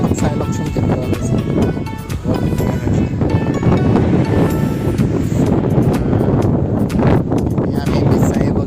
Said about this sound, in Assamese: বতাহ মাৰিছে মোৰ মাত আহিছে নাই